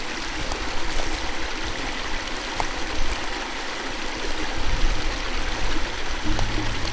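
Water pours steadily from a pipe into an irrigation ditch, a continuous close rushing and gurgling flow with no talk over it.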